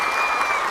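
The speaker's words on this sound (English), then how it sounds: "We need a clap." A short burst of dense crowd clapping, steady and fairly loud throughout, with a faint tonal ring riding over the wash of hands.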